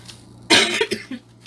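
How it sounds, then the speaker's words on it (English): A person with bronchitis coughs in a short, loud burst of several rough hacks, followed by two or three smaller trailing coughs, close to the listener. "I do apologize for the coughing."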